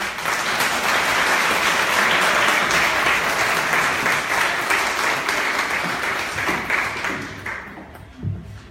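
An audience applauds after a health lecture on diabetes self-care, giving loud, sustained clapping that fills the room for about seven seconds before tapering off.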